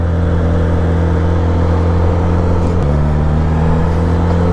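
A Suzuki GSX-S950 motorcycle with stock exhaust runs close by with a deep, steady exhaust drone, its pitch stepping down slightly partway through.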